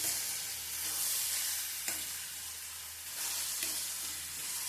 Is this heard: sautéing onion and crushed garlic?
yes